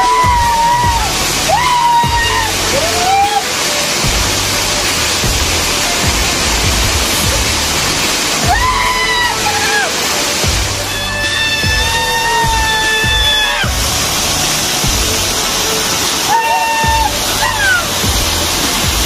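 A waterfall roars as a steady broadband rush of flowing water, with voices calling out intermittently over it.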